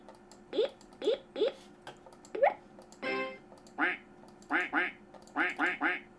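Classic Macintosh SE/30 quack system alert sounding repeatedly, about a dozen short nasal duck-like quacks in uneven clusters, close and clear with no talking.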